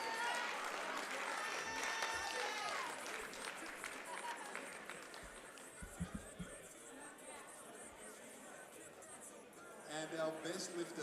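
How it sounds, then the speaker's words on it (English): Crowd at a Special Olympics and equipped powerlifting nationals awards claps and chatters for the best male lifter, a steady broad wash of applause mixed with murmuring voices and a few louder bursts near the end. "Yeah, let's give him a big round of applause."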